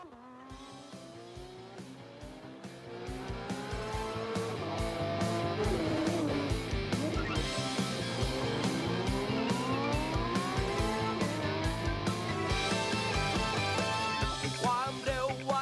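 Toyota Gazoo Racing cars run a GR hot lap at the Bangsaen Grand Prix street circuit, with a loud sustained engine howl climbing and falling through gear changes, overlapping engines and brief tire squeal, and no voices.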